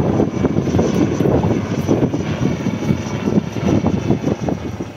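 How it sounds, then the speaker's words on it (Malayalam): A navy helicopter flies a sea search for people missing after a boat capsized off Muthalapozhi, Thiruvananthapuram, in bad weather. Its engine and rotor give a steady, loud, broadband drone with slight pulsing throughout, and no voices. "നാവികസേനയുടെ ഹെലികോപ്റ്റർ 1 മണിക്കൂർ തിരച്ചിൽ നടത്തി."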